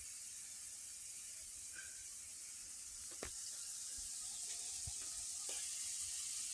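Boiled ground pork frying in a pan for adobong sitaw, a steady close hiss of sizzling fat with a few faint clicks and pops, no voices.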